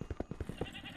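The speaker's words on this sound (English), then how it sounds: "No, I heard a goat." A goat bleats in the video game Minecraft: a brief, rapid, stuttering bleat of quick pulses lasting about a second, fairly close.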